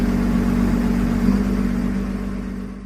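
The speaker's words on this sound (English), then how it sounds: "A tractor and a pusher helped the 2 Series 142 get onto the semi-trailer safely." Heavy diesel machinery, a tractor and a pusher working together to move a Series 142 bulldozer onto a semi-trailer, drones steadily and loudly at close range, with a slight easing toward the end and no talking.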